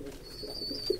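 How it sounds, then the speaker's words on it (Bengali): Pigeons coo softly in a low, throaty murmur close by, with a faint steady hiss behind them and no talk. "বিভিন্ন রকম আছে কবুতর"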